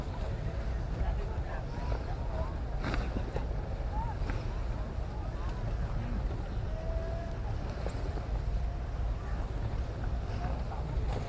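Steady wind blows across an open hot air balloon landing site in the cool late afternoon, a constant broadband rush with microphone buffeting and faint voices underneath.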